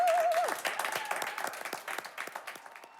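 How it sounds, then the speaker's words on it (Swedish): Audience applause at a Melodifestivalen 2025 heat, a dense crowd clapping steadily, loud at first and easing off slightly over three seconds, with a brief musical tone at the start. "En stor applåd."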